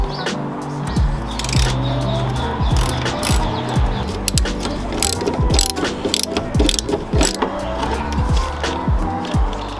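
A hand ratchet clicks rapidly and steadily, loud and close, while bolts are removed from a Land Rover Defender during a campervan conversion. The pawl chatters in repeated bursts with no talking.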